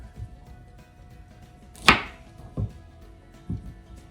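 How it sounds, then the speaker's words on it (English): A knife cuts through a log of gluten-free maple pecan shortbread cookie dough, one sharp slice followed by two duller thuds against the board, close and isolated in a quiet room. "So let's just start by slicing off an end."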